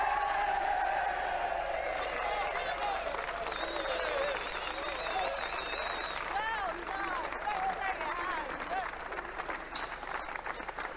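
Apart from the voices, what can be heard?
audience clapping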